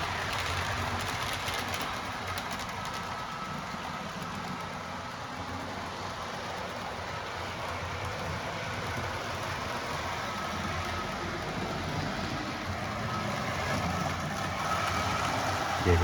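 A Bachmann model train runs a lap around its track, giving a faint, continuous low rumble and whir that holds steady and swells slightly near the end.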